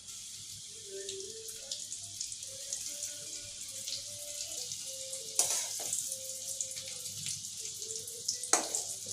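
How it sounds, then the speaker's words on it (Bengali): Paneer pieces fry in hot oil with a continuous close hiss, broken by scattered crackles and a couple of sharper spatters. "তেলটা মোটামুটি গরম হয়ে গেছে। এবার আমি আস্তে আস্তে পনিরগুলো ছেড়ে দেবো।"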